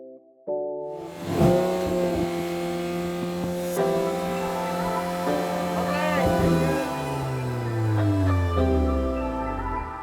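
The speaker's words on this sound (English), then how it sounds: "So we're driving it on track today, give you sort of like some driving impressions of the wheels and tyres." A VW Golf R Mk8 on fresh Michelin tyres runs on the Brands Hatch circuit, its engine droning steadily with rising and falling pitch as it accelerates and shifts, close and continuous throughout.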